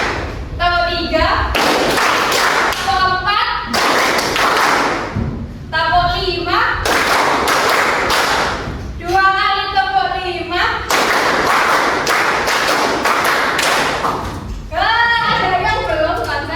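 A group claps hands together in a steady rhythm while an instructor calls out counts in Indonesian, with sharp bursts of clapping alternating with spoken cues, close and loud.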